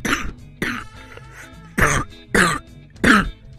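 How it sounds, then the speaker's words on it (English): A person coughs and clears their throat up close, with five separate harsh bursts spaced out over a few seconds. "For a bit of a cough right now"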